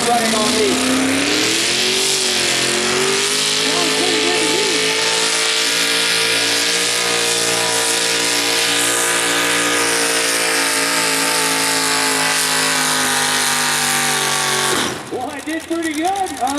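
A modified 4WD race car running on a dirt track at a night event, its loud engine droning steadily and close with shifting pitch through the laps, until it drops out abruptly near the end. An announcer talks over the engine throughout.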